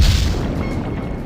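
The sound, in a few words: submarine torpedoes being fired, film sound effect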